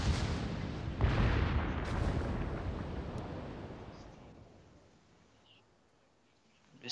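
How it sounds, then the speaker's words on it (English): Warship guns in World of Warships firing, a loud deep boom at the start and another sharp blast a second later, their rumble slowly decaying into quiet before a fresh blast cuts in at the very end. "they're firing at each other"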